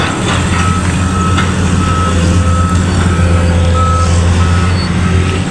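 A truck passing below a hillside subdivision with steady reversing beeps repeating over a loud, constant engine rumble.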